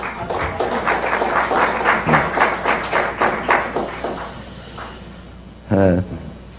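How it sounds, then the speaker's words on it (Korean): Audience applause at a National Assembly forum, a crowd clapping steadily for about four seconds before fading, then a speaker's voice briefly begins. "박수 한번 부탁드립니다"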